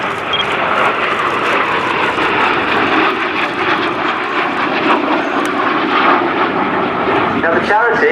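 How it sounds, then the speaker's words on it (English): Folland Gnat vintage jets flying past in echelon formation at an air day, a loud, sustained roar of jet engines held throughout, with a commentator talking over it on a public address. "coming towards you in your 12 o'clock, down what we call the B-axis, is the Gnat display team"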